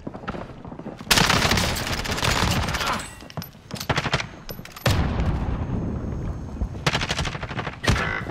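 SMG gunfire in Call of Duty Warzone on Rebirth Island, several rapid bursts of automatic fire, loud and close, separated by short gaps.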